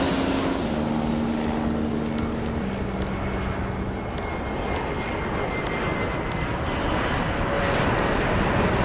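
Propeller and jet airliners in the Airport Madness airport game rumble steadily as they take off and land, a continuous loud engine roar throughout with small electronic chimes and tones sounding repeatedly on top.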